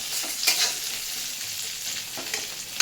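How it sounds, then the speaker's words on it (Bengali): Chopped garlic sizzles in hot oil with a steady close hiss. A spatula scrapes through it now and then. "তারপর রসুনগুলো দিয়ে দেবো।"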